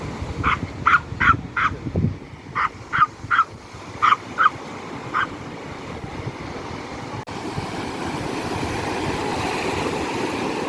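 A dog barks in quick bursts of several yaps on an Odesa Black Sea beach, pausing and starting again, then falls quiet as steady outdoor wash like surf or wind carries on.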